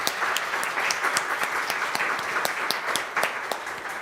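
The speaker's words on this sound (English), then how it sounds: "Let's give everybody a big round of applause for all your commitment." Loud round of applause from a church congregation at a Flower Communion Sunday service, many hands clapping close and steadily with sharp individual claps standing out.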